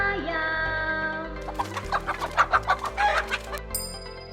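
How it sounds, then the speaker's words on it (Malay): A chicken clucks in a quick series of short, close bursts, ending with a brief electronic chime. "Ayam bunyi koko-koko."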